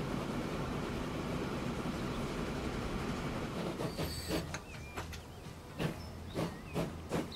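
Train running in the game Transport Fever 2: a steady rolling rumble and hiss, then rhythmic clacks and squeaky metallic accents as the cars pass, fairly quiet throughout.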